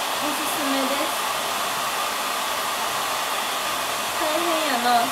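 Hair dryer blowing steadily on hair held downward to dry, a loud continuous close whoosh with slight wavering pitch and no voices.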